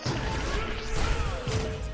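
A zombie's smashing attack in Plants vs. Zombies lands as a dense, loud crashing impact that fills the whole moment, with no clear talk over it.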